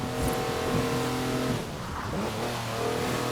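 Four-wheel drive car on knobbly mud tyres sliding fully sideways in Forza Horizon 4, its engine droning and revving with shifting pitch, loud and close throughout.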